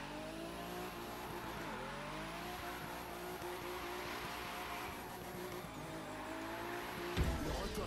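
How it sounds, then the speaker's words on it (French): A small car drifts in The Crew 2 racing game, its engine droning steadily at high revs with a thin tire squeal running through, continuous and close before a sharp rise near the end. "la petite voiture qui drift"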